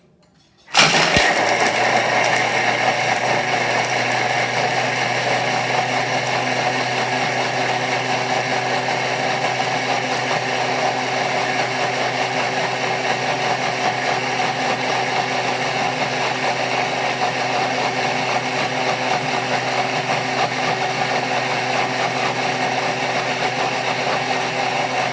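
A Thermomix blade chops ice and green drink ingredients with a little garden mint, a steady loud motor whir with tonal hum that starts abruptly and runs unbroken, alone with no talking.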